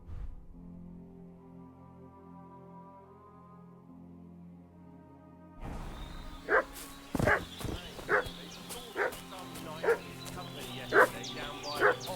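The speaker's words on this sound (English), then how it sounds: "What's that dog making such a fuss about?" A dog in the medieval Bohemian world of the video game Kingdom Come: Deliverance 2 barks and yips repeatedly in sharp bursts, coming in after several seconds of soft, sustained game music.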